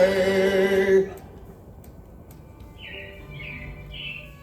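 Animatronic robins in the Carousel of Progress attraction chirp in short bursts, three quick calls in a row near the end, following a loud musical passage.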